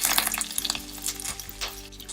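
Dried red chilies, urad dal, chana dal and curry leaves fry in hot oil, giving a steady close sizzle with crackling pops and a faint stirring scrape, no talking.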